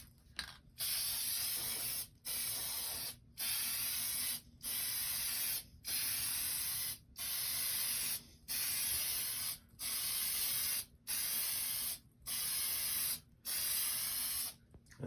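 Plasti Dip sprays from an aerosol can in a dozen sharp, evenly spaced hissing bursts of about one second each, close and loud, with brief silent gaps between passes and no talking.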